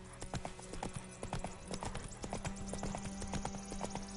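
Hooves clip-clop in a quick, steady trotting rhythm from a horse in the video game The Witcher 3, the sharp close hoofbeats repeating alone for several seconds.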